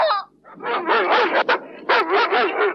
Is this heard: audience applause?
no